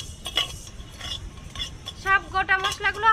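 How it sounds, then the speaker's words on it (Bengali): Whole coriander, cumin and fennel seeds stir and rattle in a hot pan of mustard oil, with a spoon clinking and scraping against the metal in uneven strokes, close up and moderately loud, over a faint sizzle. "এই মশলাগুলো প্রথমে আমি একটু হালকা ভাজা করে নেব।"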